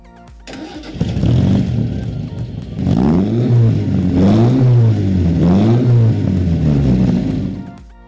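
Tuned engine of a fiberglass replica sports car built to mimic a genuine supercar, revving hard in several rising and falling pulls, loud and close with a steady throaty tone, no talking.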